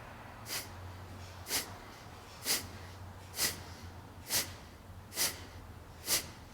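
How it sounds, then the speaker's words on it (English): Seven short, forceful nasal exhales in yoga breathing, spaced about one second apart in a steady rhythm, close and clear over a low background hum, with no talking. "Short exhales through the nostrils."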